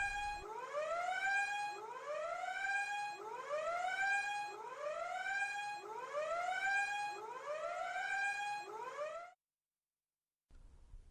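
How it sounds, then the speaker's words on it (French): A wailing emergency siren cycles in repeated rising sweeps, loud and close, for about nine seconds, then cuts off abruptly, leaving brief silence before faint sound resumes. "Je te demande ce que c'est que cette sirène qu'on entend"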